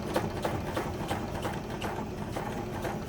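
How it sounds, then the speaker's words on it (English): Sewing machine stitching a scrap of fabric, running steadily close up with a fast, even mechanical chatter throughout and no voices. "just grab a piece of scrap fabric and test out, get a feel for the speed and how the machine stitches"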